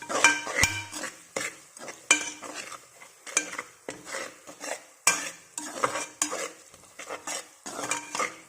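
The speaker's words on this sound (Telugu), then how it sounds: "ఇలా వేసుకున్న తర్వాత ఒక్కసారి కలిపేద్దాం." A spoon stirs coriander, chili, turmeric, salt and coconut powders into a potato and egg curry in a pan, giving repeated close scraping strokes over a soft sizzle, with no talking.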